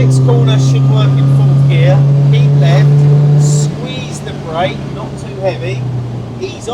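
An old MGB sports car runs on the Castle Combe race track, its engine holding a steady drone that eases off as it slows for a corner, with someone talking over it.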